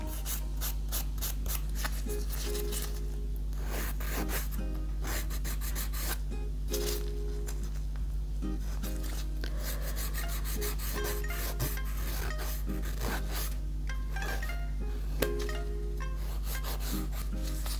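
Rhythmic rasping strokes of a file shaping a Gel-X nail capsule during a manicure, close and steady, repeating quickly with short pauses between bursts.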